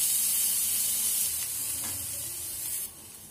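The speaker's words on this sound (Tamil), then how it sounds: "இந்த நேரத்துல நம்ம நறுக்கி வச்சிருக்க வெங்காயத்தை சேர்த்துக்கலாம்." Chopped onions sizzle loudly in hot oil while making instant special dosai, with a steady crackling hiss that eases slightly toward the end.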